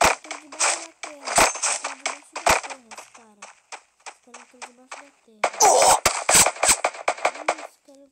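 Gunfire in the Free Fire video game comes as a series of sharp, rapid shots in bursts, some quick rattling volleys and scattered single cracks, with a person talking between them.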